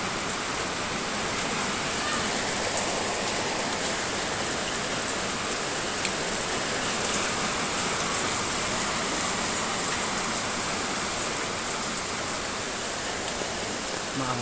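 Rain pours steadily in Lipa, Batangas, a dense, even hiss of drops striking surfaces that holds at the same loudness throughout, with no voices.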